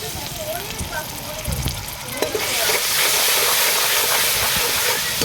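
Chilli powder, turmeric and ginger-garlic paste fry in a pan, with faint stirring at first, then a loud, steady sizzle that swells midway and holds, with occasional scraping knocks and no speech.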